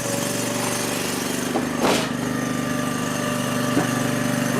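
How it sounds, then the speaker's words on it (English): An All Wood 8-way log splitter's engine idles steadily and close by, a constant low drone with a couple of brief bursts of splitting or clatter over it. "We got the all wood idled down a bit here"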